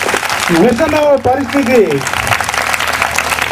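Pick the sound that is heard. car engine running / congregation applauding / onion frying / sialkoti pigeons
congregation applauding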